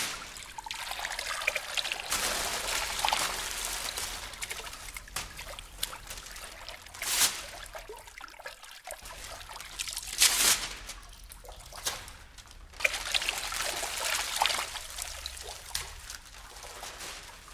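Water trickles and pours as a percussion effect in a contemporary piece for effect instruments, in several bursts of splashing and dribbling with quieter gaps between, fairly close and without voices.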